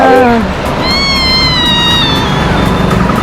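A pet cat meows close by, a drawn-out cry with rising and falling tone over steady background noise.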